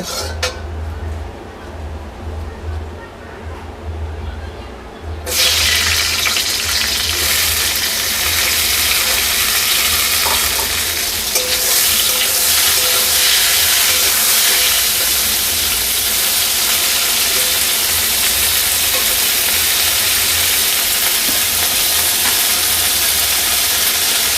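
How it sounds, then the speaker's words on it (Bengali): Bitter gourd fries in hot oil in a kadai with salt and turmeric, first as a softer sizzle, then as a sudden loud, steady spitting hiss that lasts to the end with occasional utensil clinks. "এবার উচ্ছেটাকেও ভালো করে নুন দিয়ে হলুদ দিয়ে ভেজে নেব"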